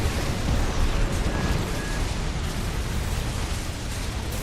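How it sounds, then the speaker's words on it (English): A missile exploding in a PlayStation battle game, heard as a loud, dense, sustained blast rumble that slowly tapers off, with no voices over it. "Come on, missile, get him!"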